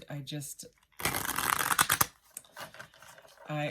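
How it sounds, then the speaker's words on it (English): Tarot cards riffled together in a dense, rapid burst lasting about a second, with a few softer card flicks after, between bits of nearby talk. "So let's go ahead and shuffle this one."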